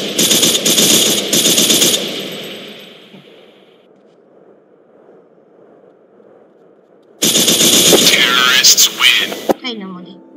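AK rifle fire in a video game rattles in fast, loud automatic bursts, then gives way to a lull before another burst of shots, with voices talking throughout.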